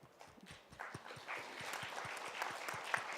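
Thin, sparse applause at a dementia policy symposium, a small number of distinct hand claps ticking along quietly and building slightly into a light patter.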